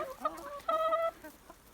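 Free-range chickens on a poultry farm in Bingöl, Turkey, cluck and squawk close by in a short burst, one drawn-out call standing out among softer clucks.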